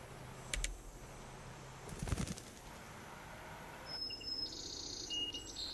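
Azure-winged magpies near their nest in a spring forest: a few quiet, sharp calls and chirps, with a louder burst around the middle and faint high twittering later over soft background hiss.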